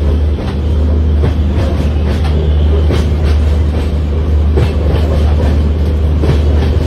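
A train winds along a hill railway near Subramanya in Karnataka, heard loud and close from onboard: a constant heavy rumble with deep low hum and repeated rhythmic clickety-clack of wheels over rail joints.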